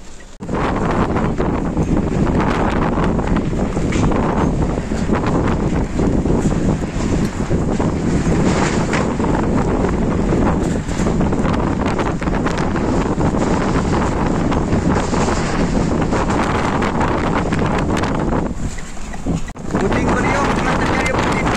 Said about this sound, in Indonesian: Terjadi angin puting beliung.